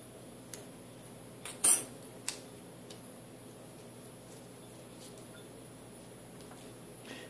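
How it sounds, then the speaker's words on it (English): Metal feeler gauges handled by a luthier at the guitar nut: a few faint, sharp ticks and one brief clattering jingle of thin steel leaves over a quiet background. "I'm going to use these feeler gauges in order to set the height of my nut slot"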